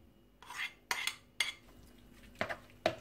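Spinach and cheese being stirred together in a bowl with a utensil, giving several short scraping clinks of metal against the bowl in an uneven rhythm, close and fairly quiet.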